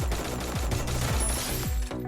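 Gunfire from the video game Free Fire: rapid, loud bursts of repeated shots in quick succession with punchy low thumps, continuing almost the whole moment without speech.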